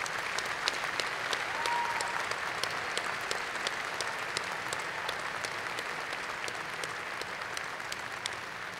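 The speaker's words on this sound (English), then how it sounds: "Let's give Vanessa a warm round of applause, and her parents as well." Steady applause from a graduate school commencement audience, a dense even clatter of many hands clapping that holds at full strength for about nine seconds without pause.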